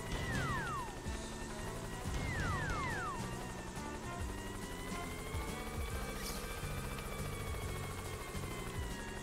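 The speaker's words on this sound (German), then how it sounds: "kann ich jetzt mit dem Helikopter vielleicht hier irgendwas machen?" A helicopter in the video game Yooka-Laylee whirs with a steady rotor drone and repeated falling whistling tones, loud and continuous, mixed with game background music.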